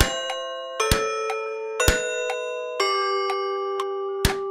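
A clock in an animated children's song strikes the hour four times. Each bright, bell-like chime rings on and overlaps the next, with the strikes about a second apart and lighter ticks between them.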